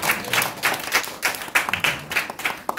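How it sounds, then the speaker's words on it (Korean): A Sunday church congregation claps together in praise, a fairly dense burst of overlapping hand claps with slightly uneven rhythm, moderately close and steady for a few seconds. "우리 같이 영광의 박수 올려드리겠습니다"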